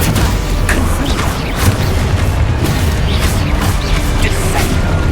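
Confringo blasting spell explosions in the Hogwarts Legacy video game, a dense, loud barrage of booming blasts and crashing impacts that runs continuously with no pause.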